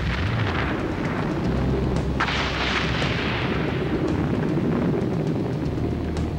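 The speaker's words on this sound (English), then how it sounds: "fishermen report explosions. A volcano is erupting on the bottom of the ocean." Underwater volcano erupting on the ocean floor off Iceland's southern coast in 1963, giving rise to Surtsey: a loud, continuous deep roaring rumble with dull booming bursts throughout, no voices.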